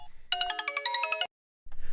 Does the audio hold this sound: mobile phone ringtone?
yes